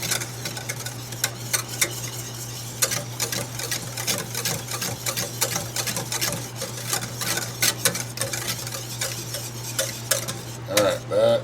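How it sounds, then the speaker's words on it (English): Red velvet cake frosting mixture whisked in a hot pan as it cools, a rapid rattling of the whisk against metal with a constant low hum beneath, close and without talk. "I always whisk mine for a little bit while it's cooling, just so it doesn't sit there and scorch on the bottom of the hot pan."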